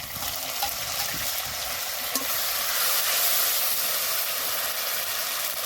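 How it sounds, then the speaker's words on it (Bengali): Ginger, cumin and green chili pastes hit hot oil with fried onion and tomato while cooking a Bengali bhola fish tel jhal, giving a steady, close, continuous sizzle that hisses evenly throughout with no voices. "এখন দিয়ে দেবো আদা বাটা জিরে বাটা কাঁচা লঙ্কা বাটা"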